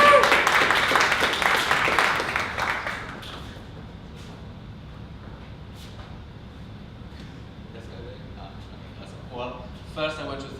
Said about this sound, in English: Let's welcome you to the stage with a round of applause as well.